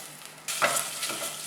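Red chilies, mustard seeds, cumin seeds and urad dal hit hot oil in a pot and burst into a close, crackling sizzle with a few sharper pops, following a quiet start.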